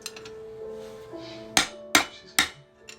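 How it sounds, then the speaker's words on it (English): Three sharp metallic hammer blows ring out at a steady pace while the flywheel is knocked off a Predator 212cc small engine, preceded by faint tinkering, each strike loud and close with a brief ringing decay. "Now we can take off the flywheel."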